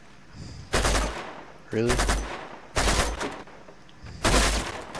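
Heavy gunfire in the game Uncharted 2 comes in four loud separate bursts of rapid shots, each about half a second long, with a brief spoken word between them.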